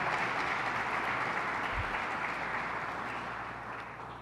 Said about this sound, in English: Can we give the Governor another round of applause for her leadership?